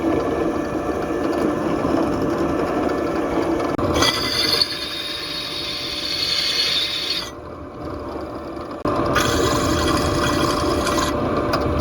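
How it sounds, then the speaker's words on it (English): Steady grinding whir of a drill boring holes in sheet metal for a powder coating oven, running continuously with a couple of brief changes in pitch and pressure partway through. "I'm going to start drilling these holes"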